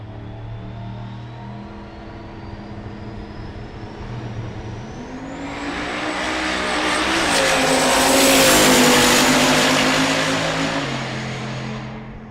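A Buick Grand National drag car makes its pass at a race week event, the turbo whine climbing steadily before the engine roar surges loud around the midpoint and then gradually fades.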